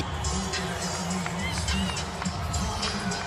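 A stadium crowd roars as Lionel Messi and Inter Miami walk onto the pitch, a dense, sustained wash of cheering, while a commentator talks over it.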